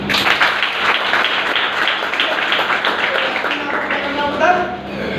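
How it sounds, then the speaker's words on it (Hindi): Steady applause from a crowd fills the whole stretch, a dense wash of clapping with a speaking voice faintly underneath. "एक बार जोरदार तालियां।"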